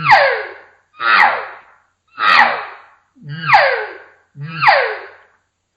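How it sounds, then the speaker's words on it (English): Five separate elk cow calls, each blown through a call with vibrating lips for a raspy, buzzy tone, each a strong descending note with a pause between, close and loud. "I'm blowing the call as if I'm just making a cow call"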